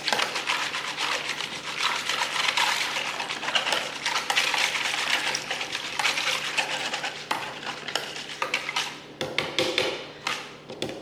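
Salt brine for smoked turkey wings being stirred until dissolved, a busy continuous scraping and swishing in a container with sharp clinks of utensil on the vessel, fairly loud and close.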